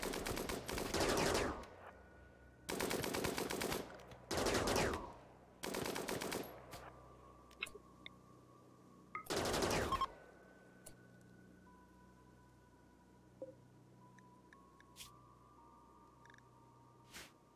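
Gunfire in the colony-building game RimWorld: several loud, sustained automatic bursts roughly a second long each, spaced a few seconds apart, then fading into quieter ambient game sounds.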